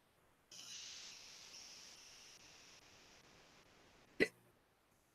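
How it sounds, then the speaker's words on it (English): A single sharp hiccup pops out near the end, close and brief, after a few seconds of faint steady hiss. "Hey, the hiccups."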